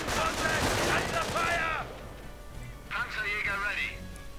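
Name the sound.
gunfire and mortar in a WWII strategy video game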